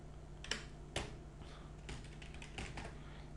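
A computer keyboard clatters with a few scattered keystrokes as a command is typed, sharp clicks near the mic over a steady low electrical hum.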